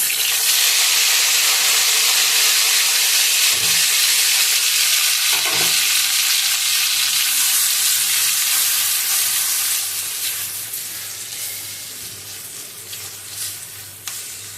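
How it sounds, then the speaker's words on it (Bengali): A paste of boiled yardlong beans with garlic and green chilli fries in a pan with a loud, steady sizzle and hiss, stirred with occasional scraping knocks; the sizzle eases and grows quieter toward the end. "এবার এটা ভালো করে নাড়তে হবে ভালো করে ভেজে নিতে হবে"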